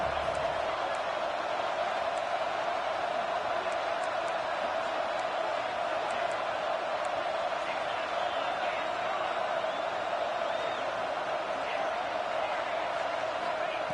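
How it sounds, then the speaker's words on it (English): Steady, dense crowd roar from a college football video game stadium, a continuous wash of noise holding level throughout with faint cheers within it. "Here comes the crowd noise trying to help this defense out."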